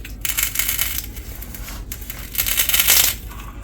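A hollow plastic eyeball ball for a Ryuk cosplay is handled up close, giving crackly, rattling plastic scrapes in two busy bursts with a short lull between.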